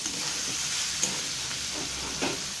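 Steady hiss of minced mutton frying in a pan, with soft scraping strokes of stirring now and then, close and continuous with no voices.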